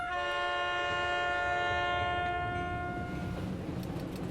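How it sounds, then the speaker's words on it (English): A long train whistle sounds steadily for about three seconds as the train starts to pull away, then fades into a low rumbling of rolling wagons. "With a long whistle from the train, it slowly starts."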